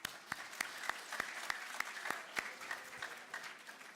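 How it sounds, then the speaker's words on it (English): Applause from a small group, with sharp individual claps standing out in an irregular rhythm over a softer patter, no voices. "They deserve our applause."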